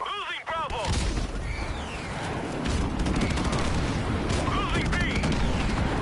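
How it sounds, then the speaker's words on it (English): Friendly airstrike explosions rumble through a Call of Duty MWR match, a dense barrage of booms and gunfire filling the mix, with game voice chatter and beeps on top. "Friendly airstrike on the way."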